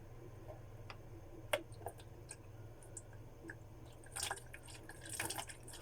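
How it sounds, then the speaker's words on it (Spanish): A thin stream of water falls onto a swinging pendulum in a physics lab demonstration, giving faint dripping and splashing taps, irregular and sparse at first, then clustering into a louder burst of splatter toward the end over low background hum. "mientras hay un chorro de agua que cae en la dirección en la que caiga el péndulo"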